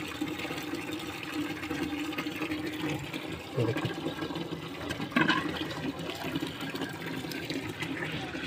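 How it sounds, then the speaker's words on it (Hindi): Water runs steadily from a newly fitted bibcock tap on an outdoor wash basin, a continuous close hiss and splash with a few brief louder surges. "जैसे बिबकाक ऑन हुआ, पानी आ गया अल्हम्दुलिल्लाह"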